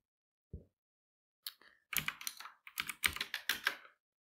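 Keys on a computer keyboard clack in short, irregular bursts of typing after a lone tap and a pause, close and clear with no talking.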